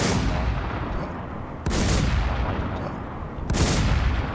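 Gunshots in the video game WarZ II come as three loud, booming blasts at regular intervals, each with a long rumbling decay, close and unaccompanied by talk.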